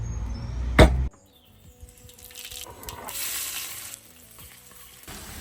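Onion and garlic frying in hot oil for a tempering, a loud sharp clatter first, then a bright, steady sizzle that rises and falls close by.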